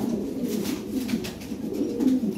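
A Lahore Siraji fancy pigeon coos steadily and close by in low, rolling throaty phrases that repeat without a break, with no speech.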